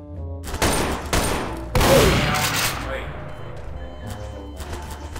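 Gunfire in the video game Garry's Mod DarkRP during a police bank lockdown: three loud, close bursts of shots in quick succession, each followed by a decaying echo that fades into quieter game background.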